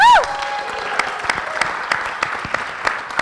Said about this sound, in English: a big round of applause for yourselves